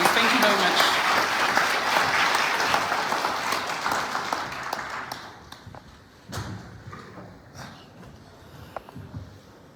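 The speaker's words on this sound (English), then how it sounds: "please join me in welcoming His Excellency Julius, the President of the Republic of Sierra Leone. A round of applause, please." Audience applause welcomes the President of Sierra Leone, Julius Maada Bio, at a Rebranding Africa summit forum, loud dense clapping at first that thins and fades to scattered claps by the end, with no talk over it.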